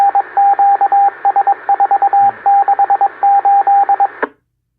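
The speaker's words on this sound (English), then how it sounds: "the phone starts to ring" A telephone rings loudly in a series of quick electronic warbling bursts grouped into repeated rings, then cuts off abruptly into silence.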